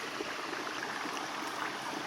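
A mountain stream beside a hiking trail flows in a steady, soft broadband rush, heard alone without voices.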